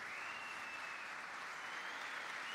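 An audience at a memorial concert for Aşık Veysel applauds, a faint, even wash of distant clapping with a thin tone held above it.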